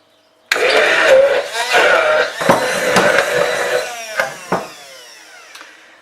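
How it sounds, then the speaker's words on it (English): A stick blender whirs loudly in bursts, its pitch shifting as it churns thick hummus with tahini, then stops with a few short pulses before falling quiet. "I'm gonna blend with a stick blender"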